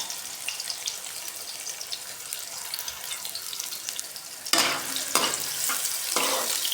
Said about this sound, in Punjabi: ਤੇਲ ਥੋੜਾ ਜਿਹਾ ਸਿਮ ਤੇ ਆਪਾਂ ਇਹਨੂੰ ਫਰਾਈ ਕਰਕੇ ਬਾਹਰ ਕੱਢ ਲਾਂਗੇ